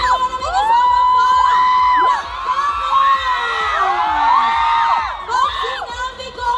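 A large concert crowd at a mall screams and cheers loudly for a singer, with many shrill overlapping voices rising and falling in waves, briefly dipping before surging again.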